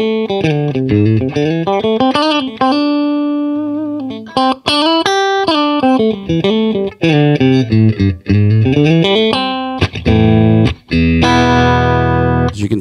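Electric guitar with EMG pickups played through a 1969 Pro Reverb amplifier with no effects, giving a clean tone in a loud, continuous run of melodic single notes and sliding phrases that ends in strummed chords, with no talking.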